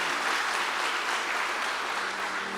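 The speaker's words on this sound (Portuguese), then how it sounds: "Aplauda bem forte," Steady, full applause from a church congregation, thick and continuous with individual claps blurred into a wash of sound, fairly loud and uninterrupted.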